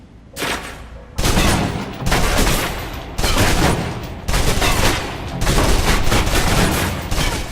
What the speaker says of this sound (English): Now, let's move on to the submachine gun. Now let's empty the clip.